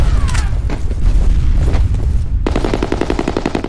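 Gunfire and a heavy blast in F.E.A.R. Combat, with scattered shots and booms followed by a sudden burst of rapid automatic fire, all close and loud.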